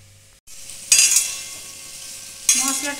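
Potatoes frying in oil in a pan for a Bengali potato, green bean and aubergine curry, bursts of loud sizzling as they are stirred, with a utensil scraping and clinking against the pan.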